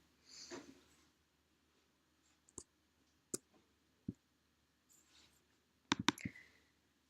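Computer mouse clicks while designing a character in Adobe Illustrator, heard as sparse, faint, isolated clicks spread out over several seconds, with a quick cluster of clicks near the end.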